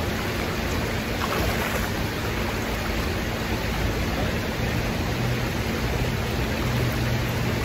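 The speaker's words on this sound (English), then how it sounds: "So I'm gonna start by putting some water in my big bucket here" Water gushes steadily into a big bucket beside a river, a continuous broadband rushing splash that holds an even loudness from start to end with no talking over it.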